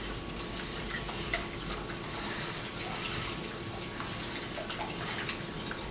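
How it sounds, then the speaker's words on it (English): A whisk beats eggs and nutmeg in a mixing bowl for bread and butter pudding, producing a steady, close clattering and scraping that runs without pause. "grab your whisk, get all that nutmeg incorporated off the bottom"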